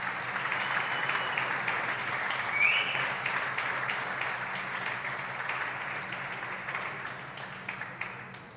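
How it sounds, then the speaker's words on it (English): Steady crowd applause in an indoor squash venue for women players after a final, continuous and fairly loud, with a brief whistle-like squeak near the middle. "So let's give those ladies a round of applause for their performance."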